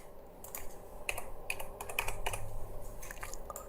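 Keyboard typing at a computer while looking up a stock chart, a run of light, uneven key clicks in short bursts, close and fairly soft, with no talk.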